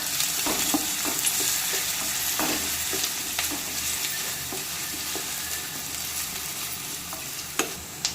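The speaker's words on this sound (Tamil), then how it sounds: "கூடவே ஒரு பத்து கருவேப்பிலை பச்சை மிளகா ஆட் பண்ணி நல்லா கிளறி விட்டுக்கலாம்" Onion, curry leaves and green chilies fry in a hot pan while a spoon stirs them, giving a steady sizzle broken by repeated scraping clatters, close and fairly loud, with no speech.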